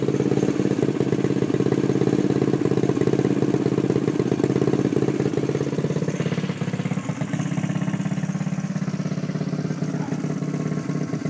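A Honda Ruckus trike's small engine runs with no battery fitted. It gives a steady, close, clattering idle that holds at an even level throughout.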